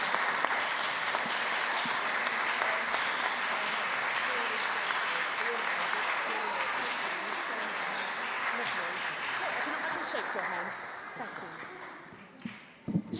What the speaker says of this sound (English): So Sky, Isaac, and Laura, would you mind coming up here so we can give you a massive round of applause?